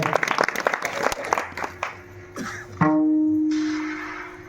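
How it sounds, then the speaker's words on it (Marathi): An audience at a devotional kirtan gathering claps loudly in a dense burst of applause that thins out, giving way to a sustained tone from the sound system with some voice mixed in. "त्यांच्यासाठी जोरदार टाळ्या होऊ द्या."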